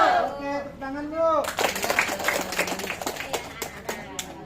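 An audience at an Indonesian small-business and financial-planning workshop bursts into rhythmic hand clapping right after a short stretch of talk, the claps close and sharp and continuing to the end.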